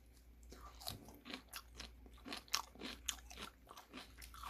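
Crunchy young radish kimchi (yeolmu) being chewed close up, a run of wet, crisp bites and crunches repeating irregularly at a quiet level, with no talking.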